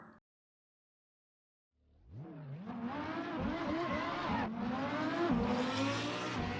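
Lamborghini Huracán Performante in the Assetto Corsa racing game: after a brief silence the engine roars up through the revs, loud and close, with quick gear shifts and rising, falling pitch as it accelerates hard.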